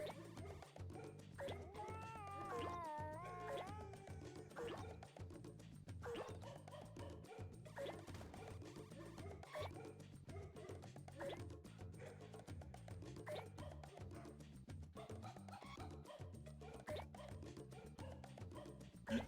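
A dense musical arrangement of a video game theme played with dog bark and yip samples, running continuously and loud with steady rhythmic barking over a full backing track.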